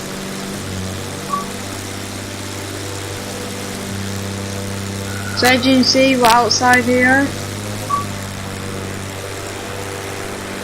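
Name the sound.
aircraft engine noise outside plane in Flight Simulator X video game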